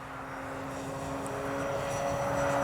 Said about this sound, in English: No flaps, just going to take off.